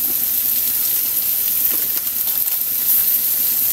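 Bell pepper and softening potatoes frying together in a pan, a loud, close, continuous sizzle with faint stirring scrapes, with no voices over it.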